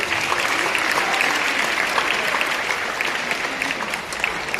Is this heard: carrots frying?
no